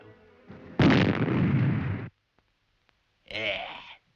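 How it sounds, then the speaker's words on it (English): A single muffled blast bursts out loud and broad for over a second, then cuts off; after a short silence a brief, quieter rumbling burst follows. "I'm a skilled hand at the muffled explosion."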